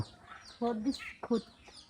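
A hen clucks close by at a farmyard feeding spot with chicks. Two or three short, throaty clucks come in quick bursts against quiet background noise.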